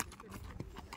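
A horse's hooves clip-clop at close range during a ride, giving a quick run of soft, uneven strikes.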